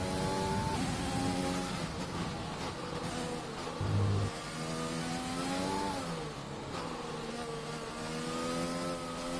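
A McLaren Formula 1 car engine in the F1 2020 racing game, a high-pitched steady engine whine with shifting revs and a brief gear-change dip, continuous and fairly loud, no talking.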